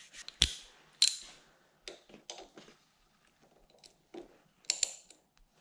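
A socket set ratchet works on the brake lever of a Honda CBR650F motorcycle, making sparse, close clicks and short mechanical rattles separated by quiet gaps.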